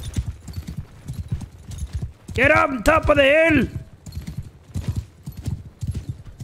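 Horses gallop with steady clip-clop hoofbeats throughout a cavalry charge in the video game Mount & Blade II: Bannerlord, while a loud voice shouts over them in the middle.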